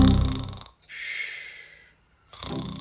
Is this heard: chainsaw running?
no